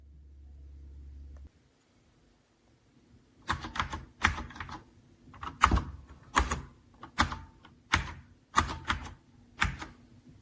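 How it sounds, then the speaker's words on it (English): Keys clack on the mechanical keyboard of an Apple IIGS in a quick, uneven run of crisp strikes. The typing is close and clear, after a short low hum at the start, with no voices. "Typing on it, it feels great. Mechanical, responsive, and solid."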